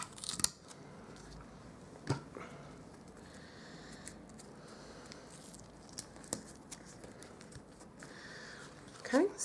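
Tape is handled and pressed onto the back of a paper craft card: crisp tearing and snipping sounds with a few sharp rustles, close by and fairly quiet, at the start, middle and end.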